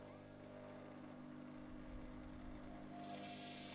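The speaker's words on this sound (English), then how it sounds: "Now we'll test the machine just to make sure the motor is turning it onto spin" An Electrolux washing machine motor, newly fitted with carbon brushes, spins the empty drum with a steady low hum and whir that holds constant, very faint, with a brief hiss near the end.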